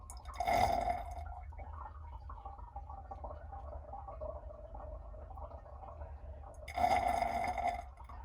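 Hydrogen peroxide being drawn into a water heater, heard as two short gurgling, bubbling bursts with quieter gurgling and trickling between them, faint and close.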